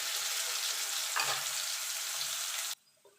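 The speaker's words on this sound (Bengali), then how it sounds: "এবার লাল লাল করে ভেজে তুলে নেব" Potatoes frying in oil, seasoned with salt and turmeric, give a steady close sizzle that stops abruptly near the end, followed by near silence.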